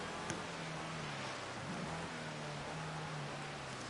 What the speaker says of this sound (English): There's no need for all of this rain.